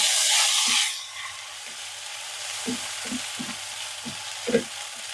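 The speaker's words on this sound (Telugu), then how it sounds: "కొంచెం అల్లం వెల్లుల్లి పేస్ట్ జస్ట్ కొంచెం పసుపు అండి వేసేసి ఒకసారి కలిపేసుకోవాలి" Ginger garlic paste and turmeric fry with onions in a pan for brinjal curry; a loud sizzle fades after a second into a steady low hiss, broken by a handful of soft scraping stirs.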